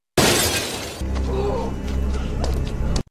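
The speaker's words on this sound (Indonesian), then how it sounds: "terkejut saat mendengar kaca pecah ketika Jonah menembakkan pistol keluar rumah" Glass shatters loudly after a gunshot in a film scene, a sharp burst of breaking panes followed by a rumbling, crackling tail of falling shards that cuts off abruptly.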